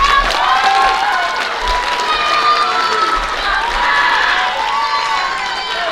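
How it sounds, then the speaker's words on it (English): Crowd noise with cheering and scattered shouts fills a school athletic banquet honoring golf teams in Muleshoe, steady and lively throughout, with voices mixed into the clamor. "Let's give it a round of applause for all of our golf teams."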